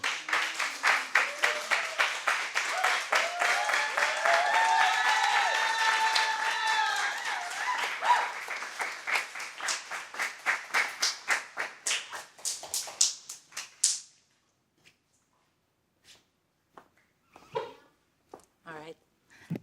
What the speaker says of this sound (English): one more round of applause for all three of these beautiful artists